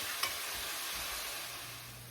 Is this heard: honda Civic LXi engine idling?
no